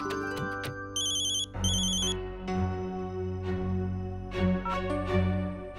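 An electronic phone ringtone chirps in two short bursts over a background of music and clattering sounds.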